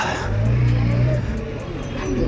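A car engine with a slipping clutch revs in a steady, close, loud drone in night traffic, as a person speaks over it.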